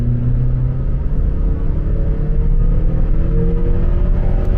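Honda engine pulling hard from inside the car, its tone climbing steadily as VTEC engages around 4,500 to 5,000 rpm, with a loud continuous rumble and rising harmonic whine throughout.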